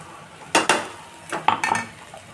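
Sweet potato for ratalyachi bhaji being sautéed in ghee, a utensil scraping and clinking against the pan in a few sharp bursts of stirring over a soft background, no talk.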